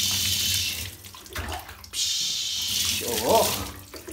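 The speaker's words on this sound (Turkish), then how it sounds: "Gel, su döküyoruz." Water poured over a dog during a bath, a close, continuous splashing gush that swells and eases over a few seconds, with a voice briefly audible beneath it.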